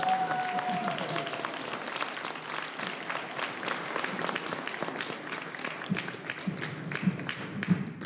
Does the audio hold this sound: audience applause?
yes